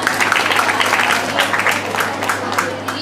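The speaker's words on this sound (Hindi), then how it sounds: "जोरदार ताली से स्वागत कीजिए।" Applause from an audience of students and guests at an Independence Day school event, a dense burst of clapping that carries on steadily for a few seconds without a break.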